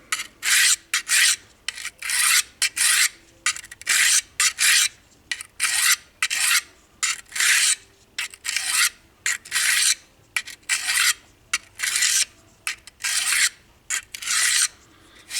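A knife blade strokes repeatedly across a Harbor Freight diamond hone block, giving a steady series of close, crisp rasping scrapes in even rhythm, each separated by short pauses.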